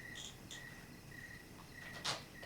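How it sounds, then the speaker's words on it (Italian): Crickets chirp at night in a quiet outdoor setting, a faint, steady pulsing trill repeating in short bursts, with a brief soft knock near the end. "Quello dei grilli è il silenzio della natura."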